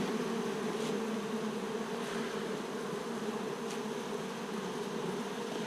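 Bees hum steadily around a hive holding a mixed batch of light and dark bees, a dense, even drone close to the microphone with no speech.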